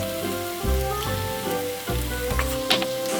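Sweet potato stem namul stir-frying in cooking oil in a pan, with a steady close sizzle broken by rhythmic scraping strokes of a spatula or spoon, and no talking.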